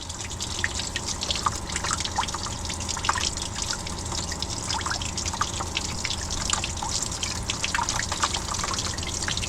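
Water dripping and trickling from the drain of a flood-damaged ex-CHP Camaro engine, a steady run of close, irregular drips and splashes over a continuous wet trickle, with no talk.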